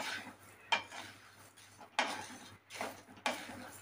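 Whole garam masala spices being dry roasted in a pan, with scraping and rattling as they are stirred and three sharper clinks of the spoon against the pan.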